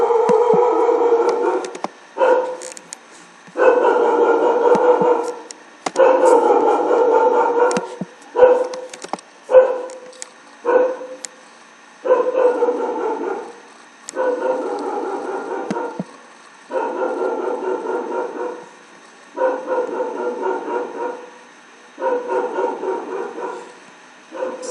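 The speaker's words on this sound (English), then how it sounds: "dog is barking" A dog barks repeatedly in loud, sustained bursts, pausing briefly between them, with occasional whimpers and yips mixed in; close by and alone, with no talking.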